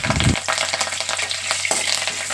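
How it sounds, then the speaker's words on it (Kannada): Cumin seeds, green chillies and curry leaves fry in hot oil with a steady bright sizzle and crackle, close and loud, after a brief low thump at the start. "ಇಷ್ಟನ್ನು ಹಾಕಿ ಚೆನ್ನಾಗಿ ಫ್ರೈ ಮಾಡ್ಕೋಬೇಕು"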